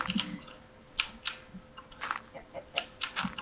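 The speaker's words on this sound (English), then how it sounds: "Typing so loud." Loud clacking keystrokes on a mechanical keyboard come in irregular bursts of sharp clicks, close to the mic, with no talking over them.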